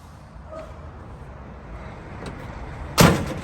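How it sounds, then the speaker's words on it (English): A truck's driver door is checked during a CDL pre-trip inspection, producing a single loud, close door slam near the end after a few seconds of low idle hum. "The door opens and closes properly."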